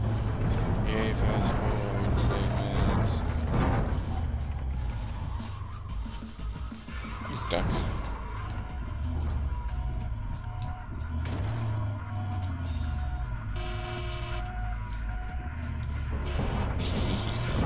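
A vehicle in the Battlefield Hardline video game rumbles with a steady engine drone and tire skids, loud and continuous throughout, with someone talking over it.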